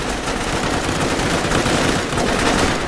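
Dense, continuous gunfire from the military shooter Squad fills the scene as a loud, steady barrage of overlapping automatic shots with no pauses.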